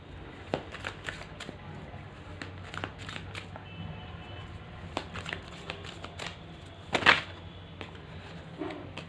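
Tarot cards being shuffled and drawn, a quiet run of crisp flicks and riffles spread across the stretch, with one louder burst of card noise near the end.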